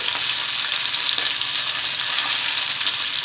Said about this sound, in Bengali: এখন এই পাশটাও আমি চার থেকে পাঁচ মিনিট ধরে কড়কড়া করে ভেজে নিব